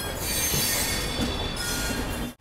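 Ranthambhore Express pulling out of platform 1 at Jaipur railway station, with loud steady wheel squeal and rolling railcar noise sustained close by throughout.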